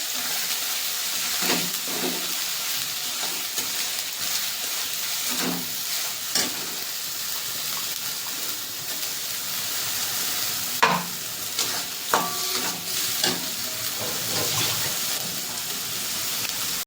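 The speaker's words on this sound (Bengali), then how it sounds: "চিংড়ি মাছের মাথাগুলো রেখে দিয়েছিলাম আমি, একসঙ্গে ভেজে নিয়েছি। এটা তেলে ভালো করে ভেজে নেবো" Shrimp heads and two ripe chillies fry in hot oil, a steady loud sizzle with occasional clinks and scrapes of a spatula stirring the pan, no voices over it.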